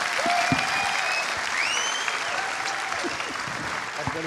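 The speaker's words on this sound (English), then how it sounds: "let's give a rousing round of applause like you're doing already to Kristina Wayborn, Tony Meyer, and David M" Concert audience applauding steadily from start to finish, a broad wash of dense clapping with a few whistles or cheers rising above it.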